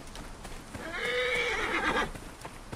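In the Assassin's Creed Origins video game, a horse lets out a clear, drawn-out whinny in the middle of the clip, faint hoof clip-clops and ambient game sound around it, with nobody speaking.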